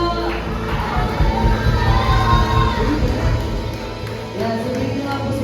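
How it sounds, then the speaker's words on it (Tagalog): At a Filipino church worship service, the congregation lets out a loud, sustained group shout of praise, a dense crowd roar with excited voices rising and falling over several seconds. "Sumigaw ng malakas na Hallelujah!"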